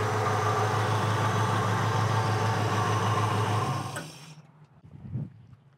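A 1963 Nova SS V8 idles with a steady, loud rumble for several seconds, then is switched off; the sound cuts out abruptly and leaves a brief low mechanical settling noise.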